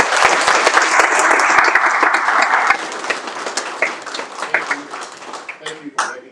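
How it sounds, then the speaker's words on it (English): Audience at a city official's live-streamed meeting applauds the Huffman girls basketball team, dense and loud at first, then thinning into scattered claps as voices come up. "let's give these kids a round of applause"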